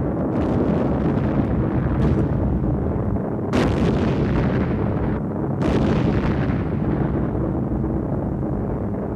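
Bombs bursting on their second ground contact during a B-25 Mitchell skip-bombing raid: a continuous loud, rumbling roar with two sharp broadband blasts near the middle and later, no voices.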